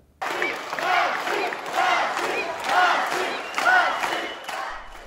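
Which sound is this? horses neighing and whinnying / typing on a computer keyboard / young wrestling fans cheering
young wrestling fans cheering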